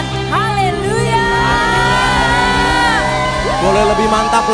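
A church congregation cheering and shouting hallelujah together, a loud, sustained crowd roar with rising whoops and yells layered over a steady musical drone.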